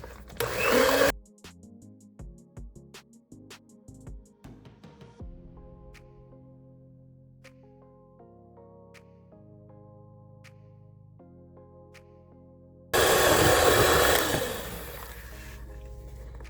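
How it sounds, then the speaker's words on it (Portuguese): Electric mixer beating eggs for homemade cake batter: loud, buzzing whirs at the start and again near the end, with quieter musical tones in between and no talking. "Bater bem por uns 5 a 10 minutos, até você perceber que está tudo muito bem misturado"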